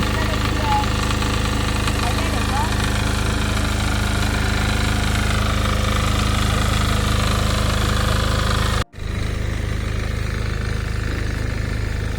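A loud tractor engine, a new model with modified wheels working a rice paddy, runs steadily with a constant low chugging drone. It briefly cuts out from a fault near the end, then resumes.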